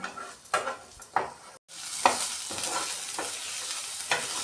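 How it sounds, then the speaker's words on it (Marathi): Onion sautéing in a pan until pink: repeated spatula scrapes and stirs over a steady soft sizzle, close and fairly quiet, with no talking. "तो आपण पूर्ण गुलाबी होईपर्यंत परतूया"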